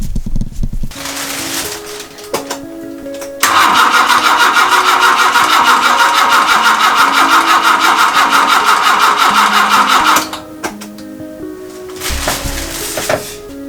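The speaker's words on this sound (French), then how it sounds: "tenter de redémarrer ce fameux moteur de la 104" A Peugeot 104 car engine cranks with uneven starter bursts, then a loud, steady, buzzing drone holds for about seven seconds before cutting off, followed by more cranking. No one speaks.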